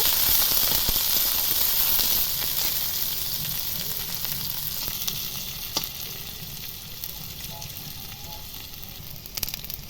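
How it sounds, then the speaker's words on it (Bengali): Sliced onions fry in hot oil, a loud, crackling sizzle that starts strong and gradually eases, with scattered pops and occasional utensil clicks close by. "পেঁয়াজটা একটু ভালো করে লাল লাল করে ভেজে নেব"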